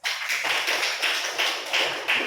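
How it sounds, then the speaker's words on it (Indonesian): A classroom of students claps together in a fast, roughly rhythmic pattern, loud and close, continuing for about two seconds with no talking. "Ya, tepuk tangan."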